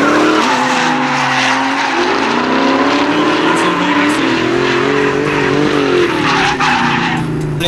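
A Ford Mustang and a BMW slide through a drift competition run, engines revving high and wavering while tires squeal and skid continuously, loud and close, with a voice commentating over the roar.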